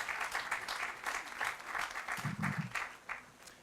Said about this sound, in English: Let's give them a big round of applause for that partnership.